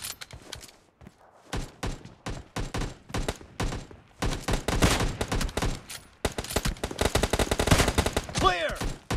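Gunfire in the mobile shooter PUBG Mobile Lite during a team deathmatch: loud, close bursts of rapid automatic shots with short gaps, then a dense, sustained volley that carries on to the end.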